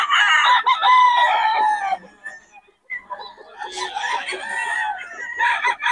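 Stag roosters crow repeatedly at a Bocaue market, loud, close and overlapping, with clucking and market voices chattering around them.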